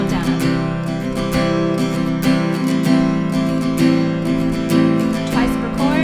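An acoustic guitar is strummed at full tempo in a quick down-up pattern on a song, with bright, evenly spaced chord strokes ringing close and clear.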